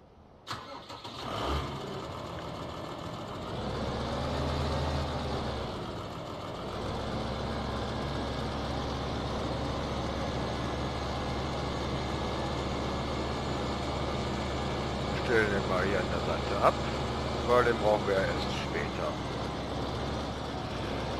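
A farm vehicle in Landwirtschafts-Simulator 15 starts up and runs at a steady mid-pitched engine drone, with occasional clanks of machinery and someone talking over it.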